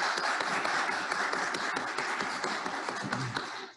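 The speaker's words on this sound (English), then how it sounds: "And a round of applause" A conference audience at an opening session applauds with steady, dense clapping for several seconds before it tapers off at the end.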